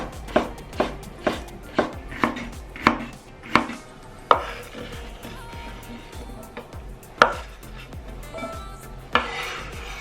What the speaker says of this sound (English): Sliced bitter melon.